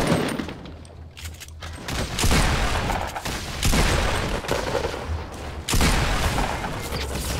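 Gunfire in the Fortnite video game comes as loud bursts of repeated shots, in several clusters separated by brief lulls.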